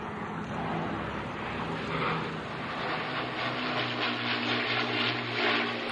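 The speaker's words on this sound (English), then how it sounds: "That is the iconic sound of the Rolls-Royce Merlin engines on a Lancaster bomber." Rolls-Royce Merlin piston engines of a WWII Lancaster bomber drone steadily in a loud, continuous propeller roar with a low throbbing hum, as if passing close by.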